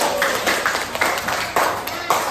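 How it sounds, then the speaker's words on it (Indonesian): A class of students claps together in an Indonesian classroom during a lesson on the ethics of artificial intelligence, a dense, steady patter of many hands close by, lasting a couple of seconds. "Oke, tepuk tangan dulu"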